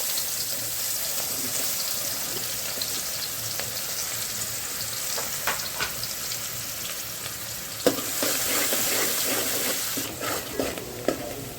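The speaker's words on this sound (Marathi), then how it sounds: "तेल गरम करून घेतलेले आहे यामध्ये आता आपण हिंग घालून घेतलेले आहे त्यानंतर बारीक चिरलेला कांदा" Finely chopped onion hisses and sizzles in hot oil seasoned with asafoetida for a traditional Kolhapur-style Bhogi mixed-vegetable dish. A continuous close frying crackle is broken by occasional stirring clinks, with no speech.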